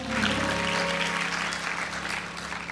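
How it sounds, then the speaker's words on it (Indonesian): Continuous applause from a large church congregation, a dense steady wash of clapping with a faint tonal hum underneath and no speech. "Tepuk tangan buat Tuhan."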